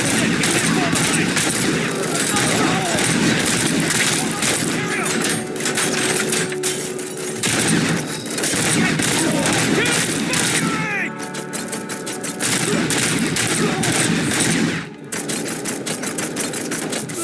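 Sustained gunfire in the RoboCop: Rogue City video game, dense bursts of rapid shots rattling almost nonstop with brief breaks, loud and close, with voices shouting over it.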